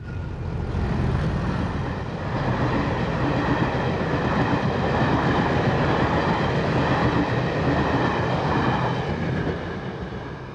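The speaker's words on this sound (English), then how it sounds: "replenishing its steam heating boiler by picking up from water troughs" A Class 40 locomotive picks up water from trackside water troughs to refill its steam heating boiler, giving a loud, continuous roaring rush with rail rumble that holds steady throughout.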